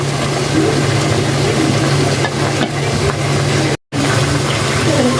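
Hilsa fish frying in oil: steady, dense sizzle fills the clip, a constant crackling hiss with a low hum beneath, broken by a brief dropout near the end.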